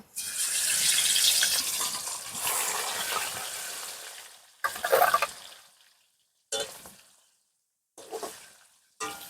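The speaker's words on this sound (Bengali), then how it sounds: "তেল গরম হয়ে গেছে এবার এক এক করে মাছ ভেজে নেবো" Rohu fish frying in hot mustard oil in a kitchen pan, a loud sustained hiss and sizzle that fades, then several shorter sizzling bursts as pieces are added one by one, with no voices.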